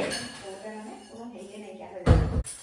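Dishes clink and clatter as they are washed in a home kitchen; someone talks throughout, and a loud, brief burst of clattering comes near the end.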